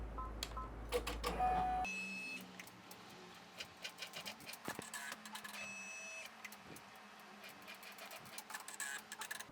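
A single-needle embroidery machine stitches tack-down lines holding elastic on an in-the-hoop sleep mask, giving a steady rapid mechanical whirr with clicking transients throughout, close and continuous, with no talking.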